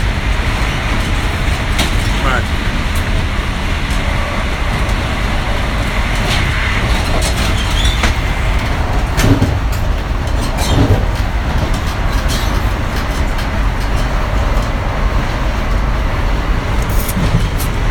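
Steady low rumble and rattle inside a moving train carriage, with faint rhythmic clacking from the rails running throughout, no voices.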